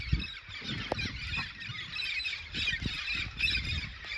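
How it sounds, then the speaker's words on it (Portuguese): A huge flock of red-spectacled amazon parrots squawks and screeches continuously in the wild, a dense, loud, overlapping chorus of harsh calls with no break. "Você imagina 20 mil papagaios juntos. É ensurdecedor."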